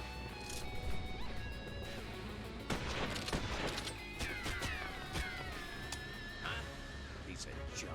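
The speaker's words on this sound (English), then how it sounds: "Bringing in the heavy artillery." Heavy gunfire and blasts in a video game come as scattered bursts and sharp cracks over a steady game background, fairly loud, with speech from the game running alongside.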